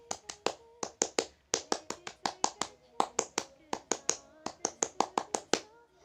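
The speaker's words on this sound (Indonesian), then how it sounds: "saya akan memperagakan tepuk 2 kali pramuka terlebih dahulu" A Pramuka scout performs the "tepuk 2 kali" clapping pattern, sharp close hand claps in rhythmic groups with short pauses between phrases, crisp and solo.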